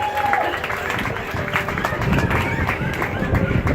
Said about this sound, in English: Let's go ahead and give her a big round of applause